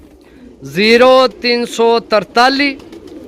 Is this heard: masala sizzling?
no